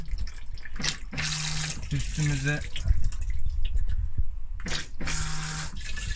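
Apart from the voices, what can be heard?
water flowing from toilet tap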